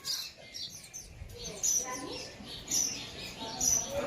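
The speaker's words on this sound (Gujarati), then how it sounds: "દુનિયામાં ધીમે ધીમે લુપ્ત થતી ચકલીઓ અમારા બધા ઘરે આવી જઈ" Several short, high chirps from house sparrows, repeated every second or so over a quiet, hissy background.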